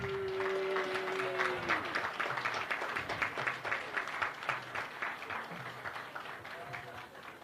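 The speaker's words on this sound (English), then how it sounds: "Give them a round of applause again." Another round of audience applause at an agricultural show's opening day, broad clapping that swells then slowly thins out, with someone speaking over it and a brief tonal sound early on.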